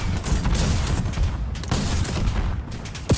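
Gunfire in Call of Duty Warzone rattles loud and close in a dense, sustained burst of shots with a brief lull near the middle, no voices over it.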